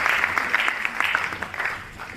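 An audience at a theatre event for a world record certificate claps together, brief and moderately loud, with a dense patter of hands and no talk over it.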